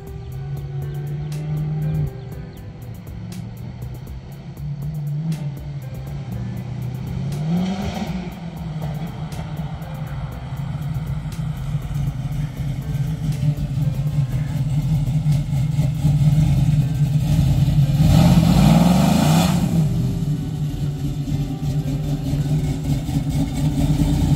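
A G-body Monte Carlo SS with a 6.2 engine revs through its gear shifts on a test drive, the loud, close engine note climbing and dropping with each shift before surging again.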